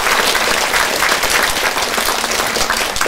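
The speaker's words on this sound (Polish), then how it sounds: "Także wielkie brawa" A seminar audience in Sokółka breaks into loud, dense applause, many hands clapping close and continuously with no voices over it.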